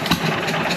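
An old John Deere 1.5 hp gas engine runs for the first time in years, firing unevenly with a steady, close, fairly loud mechanical chug and no talk over it.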